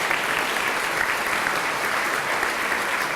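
Steady applause from the audience at a Celebration of Women awards event, a dense, even wash of clapping that holds at constant volume for about three seconds with no voices over it.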